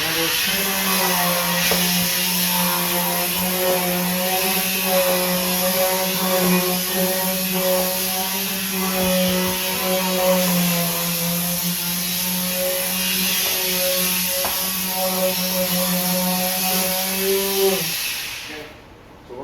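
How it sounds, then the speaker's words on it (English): An electric sander works over kitchen cabinets being prepped for refinishing, a loud steady close-up whine with an even tonal hum that runs almost unbroken for about eighteen seconds before cutting off. "Okay, so now what we're going to do is sand the cabinets."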